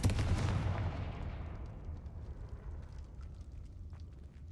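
A loud explosive blast from the Confringo spell in Hogwarts Legacy bursts at the start, then rumbles and fades into a long decaying roar with faint debris ticks over several seconds.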